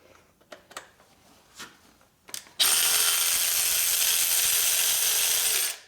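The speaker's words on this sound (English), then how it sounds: "Okay, pull those 2 screws out." A few light clicks and taps come first, then a power tool whirs loudly and steadily for about three seconds while removing screws from the transmission of a 2004 Harley-Davidson FLHT Twin Cam touring motorcycle.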